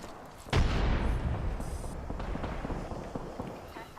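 A grenade goes off in Apex Legends combat: one loud, sudden blast with a low rumbling tail, followed by scattered gunfire and game noise, while a voice talks over it.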